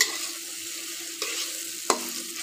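Chili and turmeric powder sauté in a pan, giving a soft continuous sizzle with two brief scrapes of a spatula and no voices.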